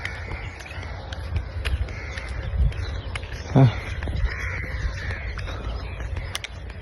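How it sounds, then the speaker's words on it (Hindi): Crows caw faintly in the distance over a quiet village morning beside farm fields, with scattered calls under steady outdoor ambience and a brief voice. "हमारे यहाँ पे कौओं की आवाज़ है"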